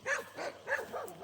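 A village dog in the hills gives a quick series of three or four yipping barks, fairly close and moderately loud, with no speech over them.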